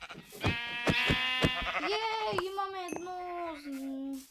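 Several sheep bleats from Minecraft, loud and close, with a few short wavering cries followed by longer drawn-out bleats, heard alone without talk.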